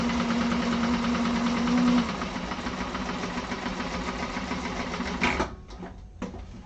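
A sewing machine stitching across the bottom short end of bag fabric, a fast steady mechanical whir with rhythmic needle chatter, slowing and stopping near the end with a few brief clicks.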